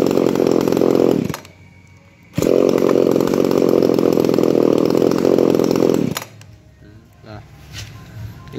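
A Japanese Echo Kioritz GC34 chainsaw with a 50 cm bar runs loud and close, its engine buzzing hard, cutting out briefly, then roaring again for several seconds before dropping to a low idle with faint voices.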